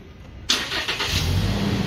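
A petrol Toyota Fortuner GR Sport engine cranks and catches with a sudden loud start, then settles into a steady idle close by, with no talk.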